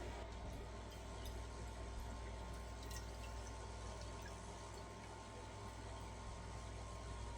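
Water poured into a bowl to make a wet batter of egg and water for homemade chicken nuggets, a faint, steady splashing flow that runs unbroken for several seconds.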